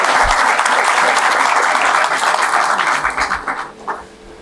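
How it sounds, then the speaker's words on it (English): An audience at a university incubator forum inauguration claps loudly and continuously, the dense applause thinning into scattered claps over the last second. "there are no penalties for making claps"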